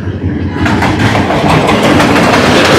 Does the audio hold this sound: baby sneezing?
no